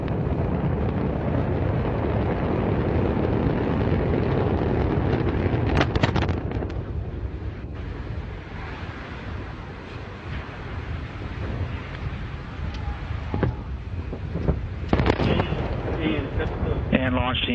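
Unmanned Antares rocket launch in October 2014: a continuous loud, rumbling roar from liftoff, with crackling bursts and a heavier blast-like surge partway through, heard distantly through wind buffeting the microphone.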